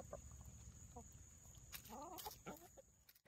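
A few faint chicken clucks come through a quiet, low background, spaced irregularly with no talking over them.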